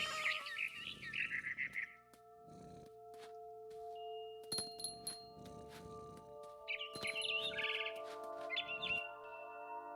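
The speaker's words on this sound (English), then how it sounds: "It was a barn swallow going back to her nest." A barn swallow in the game What Remains of Edith Finch gives bright, quick chirps and twittering calls in several bursts over faint sustained tones and background ambience, with no talking.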